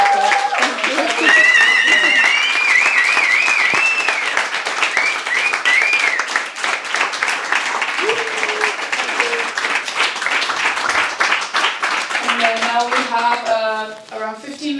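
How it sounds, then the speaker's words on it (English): Audience applause at the close of a conference talk on the animal rights side of pet shops and the wildlife trade, a steady round of clapping that runs throughout while a voice speaks over it. "so we can give one more round of"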